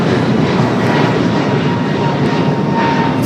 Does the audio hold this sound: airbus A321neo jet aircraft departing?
yes